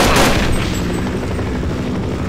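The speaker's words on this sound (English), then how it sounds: "It's an actual helicopter." A helicopter in the video game They Hunger roars loudly and continuously, its heavy rotor wash filling the scene without a break.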